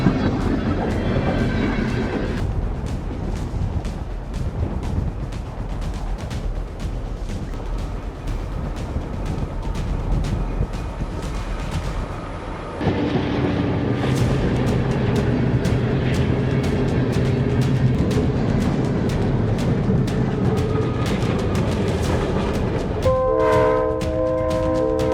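A train pushing through thick snow on railway tracks gives a loud, steady rumble and grinding with constant rattling clatter that swells partway through, ending in a drawn-out blaring horn.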